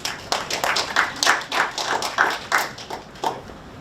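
Scattered claps, sparse and uneven, from a small audience at a startup tech showcase, fairly close and moderately loud, with no talking.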